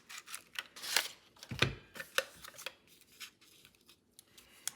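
A paper punch cuts shapes from designer series paper, giving a quiet run of crisp clicks, snaps and papery rustles at an uneven pace, close by.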